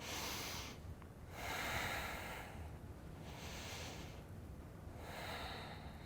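Slow, deep breaths during yoga lunges, with long inhales and exhales alternating in a steady rhythm, close and fairly quiet with a soft breathy hiss.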